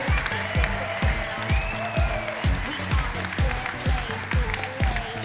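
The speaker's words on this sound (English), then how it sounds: "A round of applause for Tobias." A conference crowd claps for a hackathon winner, dense steady applause under a driving rhythmic music beat, loud and sustained throughout.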